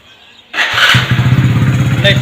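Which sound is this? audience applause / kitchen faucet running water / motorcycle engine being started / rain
motorcycle engine being started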